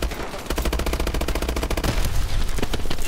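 Rapid automatic gunfire in Call of Duty: Advanced Warfare, a fast, evenly spaced burst of shots that starts abruptly and hammers on loud and close, with impacts of bullets striking the player mixed into the din.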